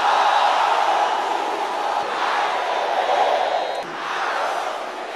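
A church congregation shouting a prayer together in a loud, sustained roar of many voices, steady for several seconds with a brief dip near the end.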